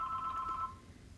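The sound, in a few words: telephone ringing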